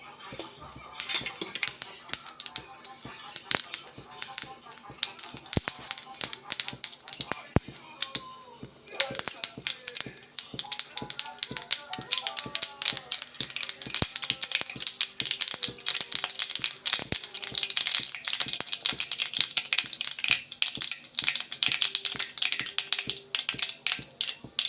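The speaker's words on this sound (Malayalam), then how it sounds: "നമുക്ക് ആവശ്യമുള്ള കടുകിട്ട് കൊടുക്കാവേ." Mustard seeds splutter in hot oil for a beef liver dry fry, making a dense, continuous crackle of sharp pops that stays close and fairly loud throughout.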